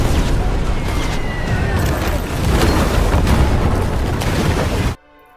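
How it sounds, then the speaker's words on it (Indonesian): A huge explosion tears apart a ship's deck in a war film, a loud sustained roar of blast and debris lasting about five seconds before cutting abruptly to silence. "Ledakan besar menghancurkan dek kapal, menciptakan kekacauan total."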